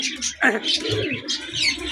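Pigeons on a farm cooing and calling close by, overlapping throaty coos and chirps that fill the short stretch.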